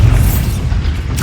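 A Bombarda explosion spell in Hogwarts Legacy gives a loud, deep boom that rumbles heavily for about a second before a short crackle at the end.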